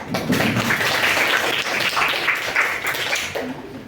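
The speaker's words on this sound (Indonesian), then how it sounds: "Mungkin bisa tepuk tangan ya" Classroom students give a brief burst of hand clapping that holds fairly steady and then thins toward the end, with a few voices mixed in.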